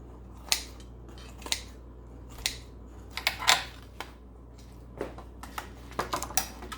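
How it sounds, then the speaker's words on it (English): Clean kitchen shears cut through a homemade pepperoni and sausage pizza without cheese, giving a handful of separate crisp snips and crunches spread over several seconds, close by and with no talk. "I take my clean kitchen shears and I cut it in half"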